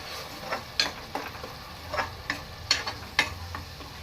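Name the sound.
onion paste frying in hot oil for crab curry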